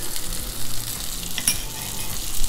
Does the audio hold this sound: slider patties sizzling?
yes